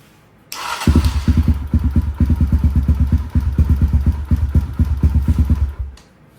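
A Kawasaki KLX140 dirt bike engine idling after a new cam install, a close, loud, rapid lumpy putter that starts abruptly, runs steadily for several seconds with slight unevenness, then cuts off.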